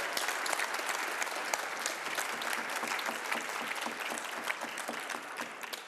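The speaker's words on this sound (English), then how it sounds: "Je vous demande d'applaudir Alain Grosjean, mais avec beaucoup d'énergie" A congress audience at a closing ceremony gives sustained, energetic applause, dense continuous clapping filling the hall for several seconds.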